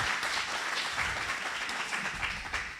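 An audience at a panel discussion claps steadily, a dense, even wash of applause sustained for a few seconds.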